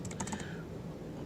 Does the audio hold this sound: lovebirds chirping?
no